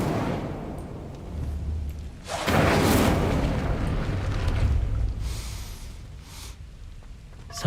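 The Incendio fire spell is cast in Hogwarts Legacy, a loud roaring whoosh of flame that swells suddenly and holds for a few seconds before fading, with a few softer magical swishes after it.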